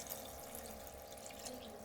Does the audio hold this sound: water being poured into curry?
yes